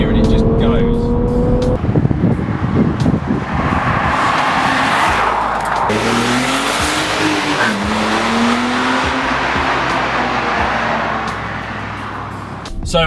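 Car accelerating hard out of a corner with tires squealing, the engine note climbing through several seconds up close, while someone talks over it.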